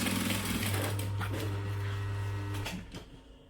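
A sewing machine stitches diagonally across a clutch seam in a steady, close mechanical whir, running for a few seconds before stopping.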